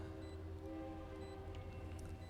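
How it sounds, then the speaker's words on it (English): A train rolls past close by, a steady low rumble of wheels with a sustained tonal hum running throughout, fairly faint and unbroken, with no talk over it. "I do apologize for the train"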